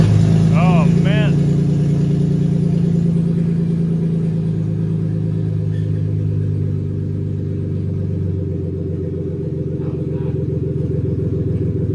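A 1987 BMW 325i fitted with a swapped-in 2.8 liter twin cam M52 engine runs steadily with a loud, low rumbling drone, no clear revving, and a voice speaking over it early on.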